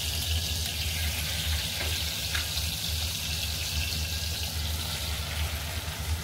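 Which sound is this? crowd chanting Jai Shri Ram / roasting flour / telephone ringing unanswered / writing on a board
roasting flour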